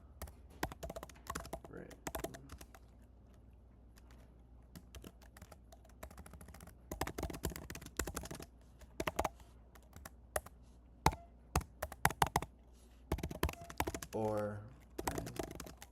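Fast, uneven bursts of clicks from someone typing an address on a computer keyboard, close and fairly quiet, with pauses between runs and brief talk mixed in.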